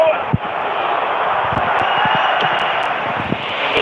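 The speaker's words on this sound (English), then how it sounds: "Just listen to this crowd." A broad, steady roar from a stadium crowd in the football game EA Sports FC Mobile fills the background, with a few thuds and someone talking over it.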